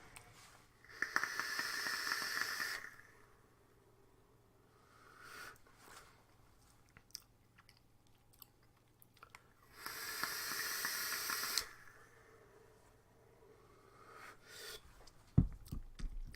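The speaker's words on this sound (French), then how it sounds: "on peut constater une grosse production de vapeur bien dense" A dripper-style e-cigarette vaped in two long pulls, each a sustained sizzling crackle and hiss of the coil lasting about two seconds, separated by quiet breathing and soft movement, with a brief bump near the end.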